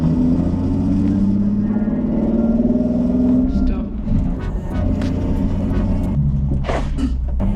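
A Nissan 370Z driven around the block, with a steady engine drone and low rumble throughout, rising in pitch as it accelerates, with a few louder bursts and brief voices near the end.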